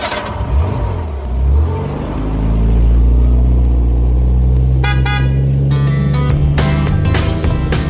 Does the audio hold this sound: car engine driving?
yes